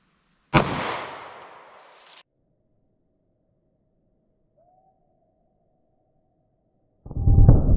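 A .38 Special +P Federal Hydra-Shok round is fired into MDF with one sharp, loud report and a ringing tail of about a second and a half. After a quiet gap, another loud burst closes the passage.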